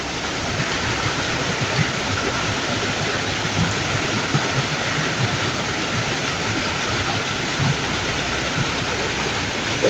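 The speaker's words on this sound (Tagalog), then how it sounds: "Pero magsugas ulan." Steady rain falling, a dense, unbroken hiss that stays loud and even throughout with no voices.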